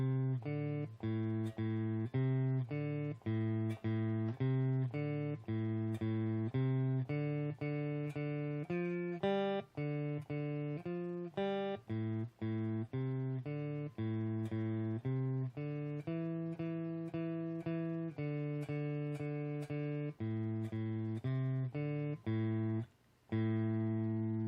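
A riff plays on guitar at a slow tempo for about 25 seconds, with repeated plucked notes in a steady groove and brief palm-muted gaps, clear and alone.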